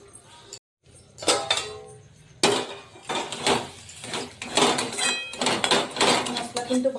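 Spice masala being fried and stirred in a pan over low heat for kadai paneer, heard as repeated close metallic scraping and clattering of a utensil against the pan, with a brief pause near the start.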